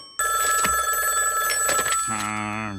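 A cartoon payphone rings in the SpongeBob SquarePants undersea world, a bright electronic bell trilling steadily for about two seconds before sliding into a lower, wavering tone, loud and alone.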